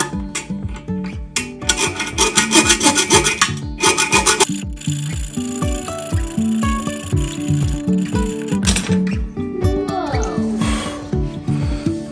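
A hacksaw cuts through a metal toilet bolt with steady back-and-forth rasping strokes, close and rhythmic, kept up for the whole stretch.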